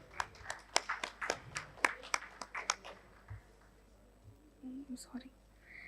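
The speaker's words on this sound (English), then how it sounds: "May I have a huge round of applause for the first award." Scattered hand claps from an award ceremony audience, a brief uneven burst of individual claps that thins out and fades, followed by faint background voices.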